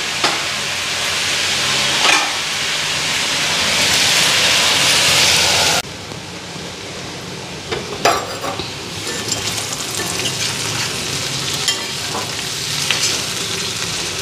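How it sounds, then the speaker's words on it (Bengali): Food frying in a pan in a home kitchen, a steady loud sizzle, brighter and more intense in the first half, then softer crackling with occasional stirring clatters, with no talk. "তো এদিকে ভাজাও হয়ে গেছে"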